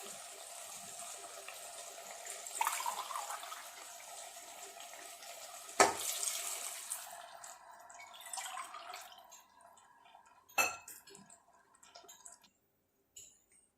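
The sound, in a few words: water poured into pot for chicken biryani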